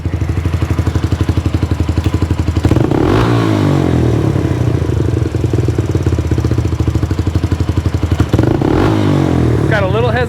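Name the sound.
Yamaha Raptor 125 ATV engine revving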